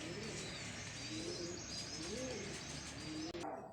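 Pigeons coo in soft, repeated rolling phrases against a steady outdoor background, with faint chirps mixed in, at moderate distance.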